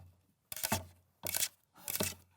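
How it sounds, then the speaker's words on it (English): Paper clips clatter against a cutting board as a sound effect, making three short bursts of dry tippy-tappy rattling separated by brief pauses, close and fairly quiet with no voices. "the sound of paper clips on a cutting board, making the tippy-tappy sound of"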